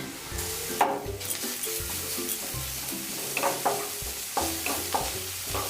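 Sliced onion with grated ginger and garlic sizzles steadily in a pan for an eggplant and paneer dish, broken by several close spatula stirs and scrapes, with no voices.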